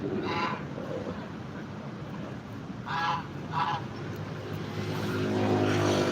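Geese in a pen in Chiang Mai give a few short nasal honks in separate bursts over a steady background rumble of passing traffic.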